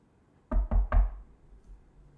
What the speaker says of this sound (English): He approaches the back left window and knocks.